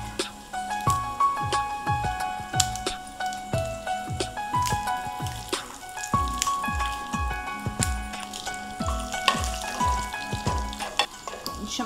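Dried red chillies fry in hot oil for a lemon pickle tempering, a steady close sizzle broken by rhythmic scraping strokes as they are stirred in the pan.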